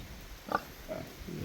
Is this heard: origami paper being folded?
no